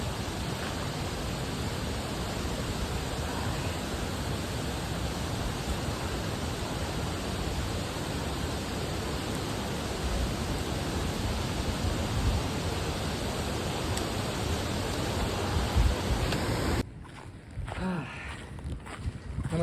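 Kalu waterfall at Malshej Ghat in the monsoon, a continuous broadband roar of heavy falling water that fills the scene, close and steady, dropping away abruptly near the end.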